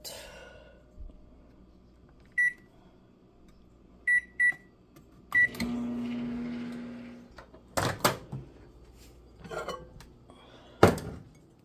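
Microwave oven in a home kitchen: keypad beeps, then a door clunk and a steady low motor hum, followed by clinks of dishes and sharp knocks as it is handled.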